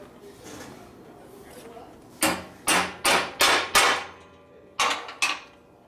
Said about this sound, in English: Just pin that back down with a hammer